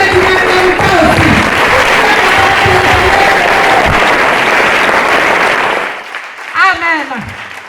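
A church congregation breaks into sustained, loud applause for the word of God, a thick roar of clapping that holds steady for several seconds before fading as a voice speaks.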